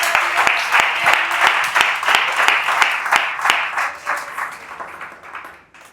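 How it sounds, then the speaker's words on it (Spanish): A church congregation breaks into sustained applause during an evangelical sermon, a dense wash of clapping with sharp individual claps popping through, steady and loud before gradually thinning and fading out at the end. "Dale un aplauso a Cristo."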